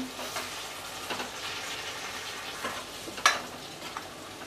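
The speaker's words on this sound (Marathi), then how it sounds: "आता त्यानंतर आपल्याला ही वांगी आहेत ना ती घालायची आहेत, परतून घेऊया।" Brinjals sauté with spices in a pan for a Koli-style dry tendli dish. Intermittent spatula scrapes and stirring knocks sound close over a soft, steady sizzle.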